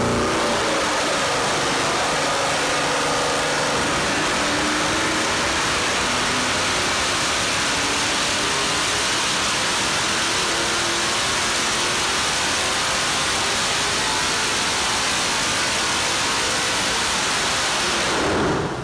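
A 6.0-liter LS V8 fitted with a stage 2 cam runs continuously for nearly twenty seconds, a loud, dense engine roar with a rough, lopey idle character and no speech over it.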